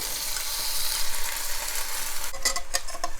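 Kimchi and seafood sizzle and fry in a pot for a seafood kimchi soup, a steady broad hiss with a burst of sharp clinks and scraping from stirring near the end.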